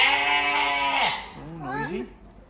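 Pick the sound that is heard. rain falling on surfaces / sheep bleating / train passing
sheep bleating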